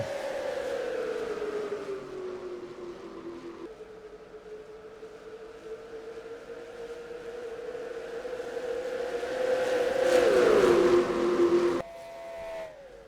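A race car engine on a circuit, single car running ahead near turn one, holding a steady droning pitch that rises and falls, swelling louder near the end before cutting off abruptly, with no talk.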